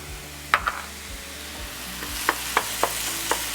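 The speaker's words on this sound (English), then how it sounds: "just throw a little bit of that onion in there while you're cooking the meat" Ground beef and onion sizzle steadily in a pan while a utensil stirs and scrapes, with several sharp clicks and knocks against the pan spaced through the quiet frying.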